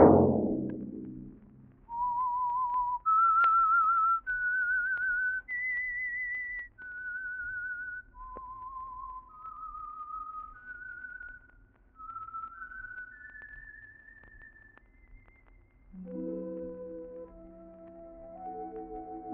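A lone whistler carries a slow, wavering tune note by note, clear and close, before a soft musical chord comes in at the end.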